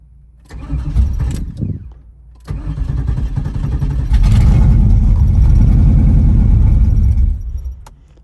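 A Pontiac Trans Am with an LT1 V8 cranks briefly, stops, then catches and fires up, settling into a loud, steady, throaty run before dropping back near the end.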